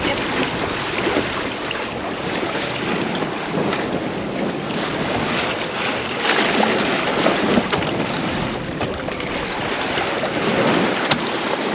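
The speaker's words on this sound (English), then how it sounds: "We're gonna make our first jibe. So here we go." A sailboat under way during its first jibe, with steady wind buffeting and rushing water and waves around the hull, loud and continuous with no speech.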